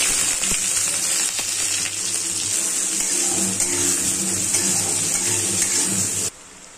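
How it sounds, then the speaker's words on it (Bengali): Cumin and onion frying in oil in a wok, a steady loud hissing sizzle heard close up throughout, dropping off sharply just before the end. "প্রথমে কড়াতে তেল দিয়ে দিলাম, প্রথমে জিরা দিয়ে দিলাম, পেঁয়াজ"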